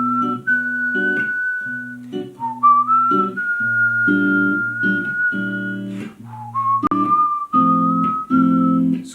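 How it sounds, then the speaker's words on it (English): One person whistling a jazz chord progression as a melody line, sustained pitched notes that step and slide between chord tones, close and clear over a low accompanying tone. "Excuse me for my terrible whistling."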